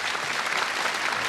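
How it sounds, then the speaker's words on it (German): Dense, steady applause from a studio audience at the 1982 German TV variety show Zum Blauen Bock, recorded in Bad Wimpfen; a close, even wash of many hands clapping throughout, with no talk over it. "Alles euer Applaus"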